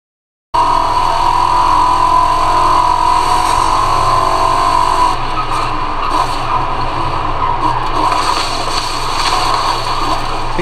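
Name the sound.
car engine and environment sounds in a video game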